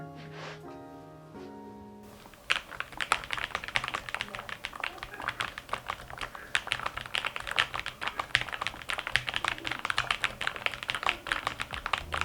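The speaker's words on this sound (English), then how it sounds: "every keystroke is whisper quiet yet buttery smooth" Soft, rapid keystrokes patter continuously on a quiet Bluetooth computer keyboard, close and muted, after a short musical chime at the start.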